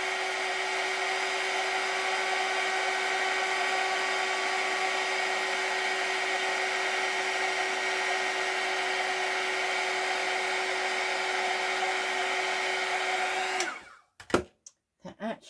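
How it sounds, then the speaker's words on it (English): A heat gun blowing hot air over a craft jar, a steady loud whooshing hum held for about fourteen seconds before it cuts off into a few clunks and handling knocks. "Okay, now heat gun,"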